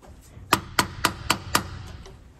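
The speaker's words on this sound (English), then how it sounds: "I'm going to give the clamp a couple little taps" Five evenly spaced, sharp metallic taps strike the distributor clamp on an MGB, close and crisp, each ringing briefly before the next.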